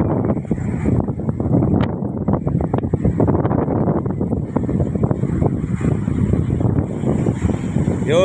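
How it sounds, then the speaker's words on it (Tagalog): Strong wind from Typhoon Enteng roars and buffets the microphone continuously by the sea, a loud, steady rumble with gusts throughout. "Pasensya kasi medyo malakas ang hangin."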